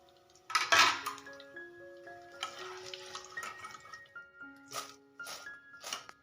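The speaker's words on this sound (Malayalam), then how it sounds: "സൗണ്ട് കേൾക്കുമ്പോൾ തന്നെ അറിയാമല്ലോ, നല്ല ക്രിസ്പി ആയിട്ടുള്ള സോയാബീനാണ് നമുക്ക് കിട്ടിയിരിക്കുന്നത്." Crispy fried soya chunks scooped out of a pan, a clattering metallic scrape and rattle at first, then lighter clinks and rustles with a faint tone running underneath.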